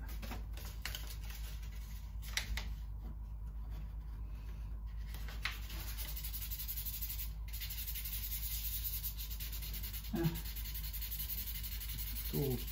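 Fine 1000 grit sandpaper is rubbed across the body of an Epiphone Les Paul Standard guitar in quiet, scratchy strokes with brief pauses, under a steady low background hum.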